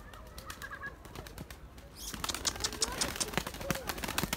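Pigeons take off and fly in a flock while a hawk is about, wings flapping in a brief soft flutter that swells into a louder, busy burst of wingbeats and rustling close by, with faint chirps.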